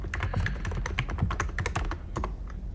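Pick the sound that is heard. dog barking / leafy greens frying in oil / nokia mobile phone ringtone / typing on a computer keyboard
typing on a computer keyboard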